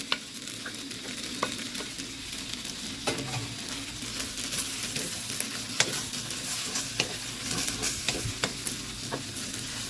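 Crown daisy leaves stir-fry with glass noodles and minced pork in a pan, a continuous moderate sizzle punctuated by scattered clicks and scrapes of stirring, no talking.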